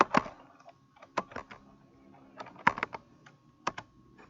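Keys clatter on a computer keyboard that is not working well, in short irregular bursts of clicks with pauses between, close and fairly quiet, while coding in C#.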